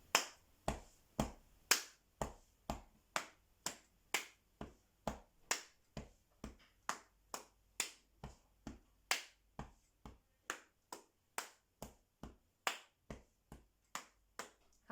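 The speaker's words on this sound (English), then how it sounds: "Clap, chest, chest, clap, chest, chest, thigh, thigh." Body percussion of hand claps and pats on the chest and thighs, in a steady repeating rhythm. The sharp, evenly spaced hits sound close and clear, with no talking over them.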